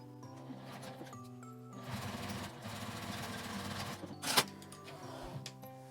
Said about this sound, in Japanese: 折り返して表から端ミシンをかけます。